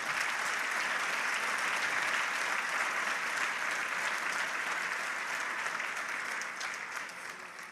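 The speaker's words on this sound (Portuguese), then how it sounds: "Dê para Jesus uma forte salva de palmas" A church congregation gives loud, sustained applause during a sermon, dense clapping that fills the room and begins to fade toward the end.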